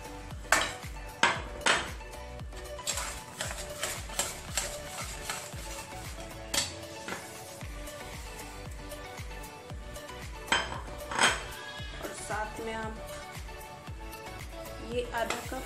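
Clattering pots and metal spoon scraping in a pan as bread crumbs go bit by bit into one-string sugar syrup for bread-edge barfi, with irregular clinks and knocks throughout, fairly close and moderately loud.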